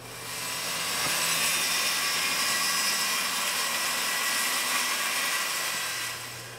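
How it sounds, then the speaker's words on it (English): A power saw cuts through plywood along a straight-edge line to make a pattern, a loud, steady whining drone that rises in and holds for several seconds before easing off, with no talking. "Now it's just a matter of taking a saw to it,"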